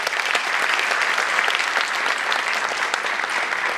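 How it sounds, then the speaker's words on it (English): A large audience at a speaking event breaks into loud, sustained applause, dense continuous clapping heard up close from start to finish. "I think he deserves a huge round of applause."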